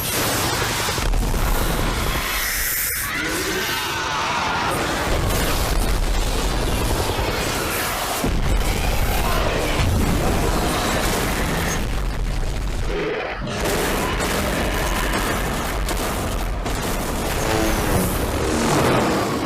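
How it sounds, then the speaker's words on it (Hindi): Dense, loud bursts of gunfire and booming blasts from the film Holiweed fill the whole stretch, a chaotic barrage with no pause. "सभी चारों तरफ से गोलियां चलाएं।"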